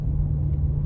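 A car engine idles with a steady low rumble in slow stop-and-go traffic, a constant close drone with no revving and no talk over it.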